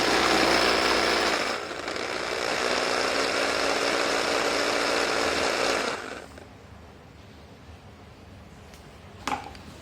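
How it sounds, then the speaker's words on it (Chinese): A handheld power mixer runs steadily and loudly as it stirs water-based primer paint, working for about six seconds before spinning down to a quieter hum, with a brief clank near the end. "拿搅拌器把底漆拌均匀。 启动时不要一下子转太快，不然可是会喷得到处都是。"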